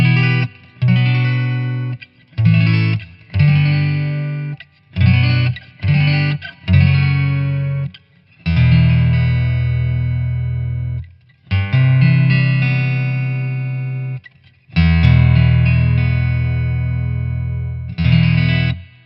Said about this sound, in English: And again the clean tones and the Taylor 814, Bad Cat, Black Cat.